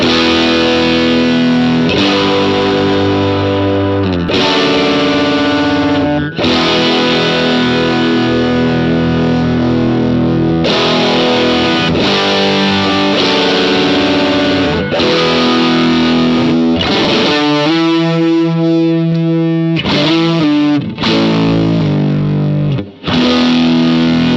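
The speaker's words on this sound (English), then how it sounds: "now I'm just pushing the front end of my amp. So my preamp and power tubes are, they're all overdriving now" Electric guitar plays chords through a heavily overdriven amp with preamp and power tubes pushed by a Pettyjohn Electronics Chime MKII boost, thick and crunchy, sustained and loud throughout with no speech.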